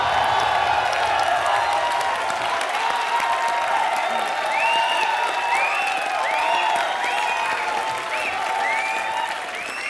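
A studio audience at a comedy show breaks into sustained, loud applause, steady clapping filling the room throughout with scattered cheers and whistles rising over it.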